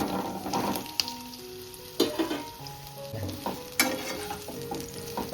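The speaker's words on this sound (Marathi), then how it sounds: "चला आता आपण कंटोला टाकून घेऊ तेलामध्ये." Spiny gourd (kantola) pieces frying in hot oil in a home kitchen, a steady soft sizzle with a few sharp clinks and scrapes of a spoon stirring the pan, no talking.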